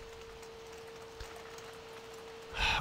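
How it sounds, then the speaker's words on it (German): Steady soft rain hiss from the farming video game Landwirtschafts Simulator 2013, a constant even wash of falling drops, with a brief louder rustle at the very end. "Und es regnet. Ist das nicht schön?"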